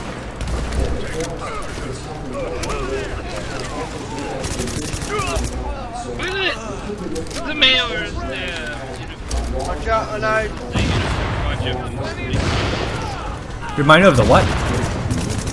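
Automated turret gunfire in the shooter game The Division, bursts of rapid shots and booms mixed with game effects, heard under near-constant talk from a voice.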